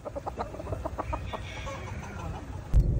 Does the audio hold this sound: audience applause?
no